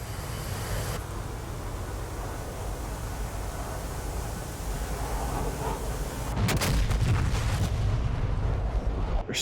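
Bombs from an F-15E Strike Eagle exploding on a port target in the Marianas in DCS World, a constant roaring rumble under heavy noise that swells into a louder burst of blasts near the end, no talk.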